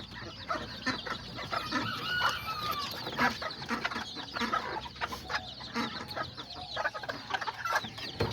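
Small bantam-type chickens, miniature Aztecas and Seramas, cluck and chatter steadily at close range, with overlapping calls and a crow mixed in, busy and continuous without pause.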